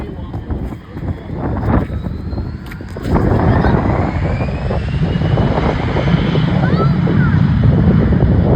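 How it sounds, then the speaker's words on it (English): A jet airliner passes close overhead near an airport, its engine roar swelling sharply after a few seconds into a loud, sustained rumble and whine that drowns out the surroundings. "This is how loud an airplane is."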